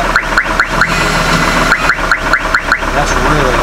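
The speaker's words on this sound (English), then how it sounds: "It's some crazy sound that the radio makes when you change the volume." A Copart Hummer H3's car radio gives off a loud, rapid series of repeated electronic chirps when its volume is changed, pulsing in quick bursts over the low rumble of the idling engine.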